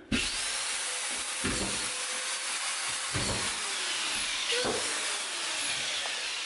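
A power screwdriver drives screws into wood on a building site, with several short whirring bursts spaced a second or two apart over a constant background of site noise.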